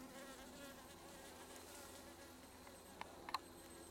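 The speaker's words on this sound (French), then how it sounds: "Là c'est une abeille ça." Bees and other insects buzzing among wildflowers in late September in the Médoc, a steady, faint drone close to the listener with a few small clicks near the end and no voices.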